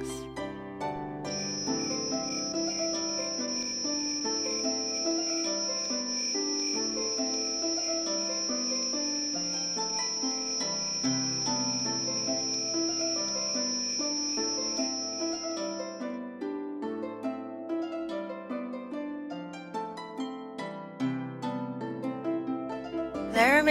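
Crickets chirp in a steady, unbroken high trill that runs for most of the stretch over soft background music, then fades out before the end.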